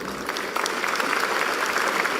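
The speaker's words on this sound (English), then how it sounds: "A round of applause, please." Dense, steady applause from a corporate event audience greeting a speaker, fairly close and continuous throughout the short stretch.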